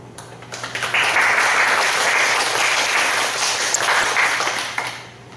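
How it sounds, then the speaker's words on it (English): Applause from an audience for seventh-grade students at a school English presentation swells quickly and holds as dense, steady clapping for several seconds before fading, with little talk. "Please join me in giving them a big round of applause."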